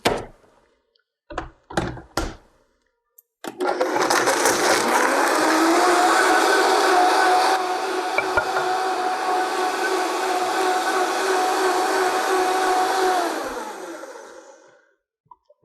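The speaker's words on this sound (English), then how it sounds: "Okay, now I'm going to just blend this up." A blender whirs steadily for about ten seconds, blending pitted jujube dates, after a few sharp knocks and thuds at the start; the motor holds a loud, even drone, then winds down.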